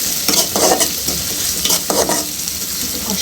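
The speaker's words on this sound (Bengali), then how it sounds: "পেঁয়াজ কুচি, কাঁচামরিচ দিয়ে এখন একটু দিয়ে দিলাম।" Chopped onion and green chillies sizzle loudly in a pan, with bursts of stirring and scraping close by.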